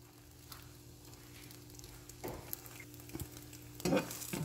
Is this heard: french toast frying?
yes